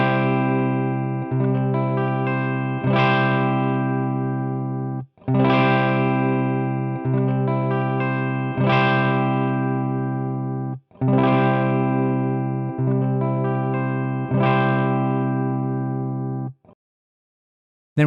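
A THD guitar amplifier modeled in AmpliTube 5 plays distorted, sustained chords, repeated four times as a cut knob is set to different positions, each chord ringing out and slowly fading before the next strike, then a brief final hit.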